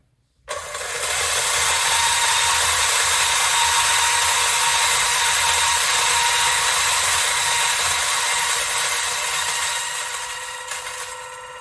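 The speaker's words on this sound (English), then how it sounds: "We're just gonna keep it at 1000 RPM for consistency. And we press this again, and that starts our grind." A Gevi GrindMaster burr coffee grinder running at 1000 RPM grinds an 18-gram dose of beans, a loud, steady high-pitched whir that starts abruptly and holds for about ten seconds before easing off, with no talking.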